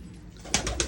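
Breeding-pair pigeons give a brief, soft coo, faint and close, lasting under a second, with a light flutter of sound around it.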